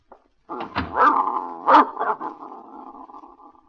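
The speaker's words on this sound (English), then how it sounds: "I don't think your dog likes me, Mrs. Gillis." Dog growling in a 1949 radio suspense drama, a low rumbling snarl that rises in two swells and then trails off into a sustained grumble, close and alone.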